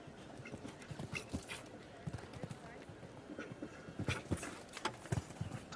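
The 11-year-old stallion Sovedja gallops through a speed show jumping class at Aix-la-Chapelle, with hooves thudding in quick irregular beats under steady commentary and crowd murmur.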